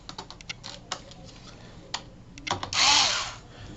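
A power drill with a swapped-in small bit drives tiny screws into a Plaidlet 4 keyboard assembly. A few light clicks and taps come first, then a short, sharp whirring burst near the end.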